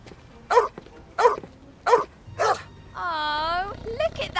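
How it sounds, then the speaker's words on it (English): A puppy gives four short, sharp barks at a steady pace, then lets out a longer rising and falling whimper or yip near the end. The sounds are close and fairly loud, with quiet room tone between them. "Oh, look at that cute puppy."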